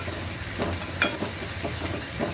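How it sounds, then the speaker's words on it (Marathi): Dried shrimp and onion stirred in hot oil in a pan for a spicy chutney, a steady close sizzle with soft scraping strokes and a brief louder clatter partway through. "तो चांगला ब्राऊन होईपर्यंत तेलामध्ये मी मारत राहणार"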